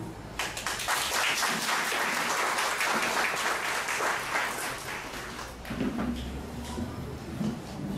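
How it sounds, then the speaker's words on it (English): Sustained applause from a crowd fills the whole stretch, dense and steady, easing slightly midway before picking back up. "Please let us give her another round of applause."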